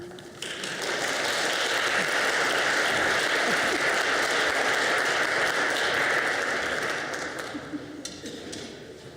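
An audience at a Martin Luther King celebration gives a round of applause, a dense, even wash of clapping that swells in quickly, holds steady for several seconds, then thins out and fades, with no talk over it.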